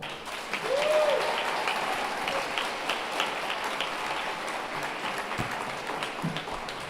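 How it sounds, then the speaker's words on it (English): Audience applause at a graduation ceremony, a broad, even wash of clapping from a large crowd with a brief whistle near the start, holding steady throughout. "An applause."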